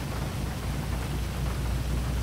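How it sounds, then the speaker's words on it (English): Heavy rain in the video game GTA 5 Online, a dense, steady hiss of downpour that fills the whole clip with no speech. "it is raining heavily"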